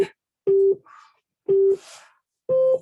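An exercise class timer rings with three loud electronic beeps, each about a quarter second long and spaced a second apart, with faint room noise between them.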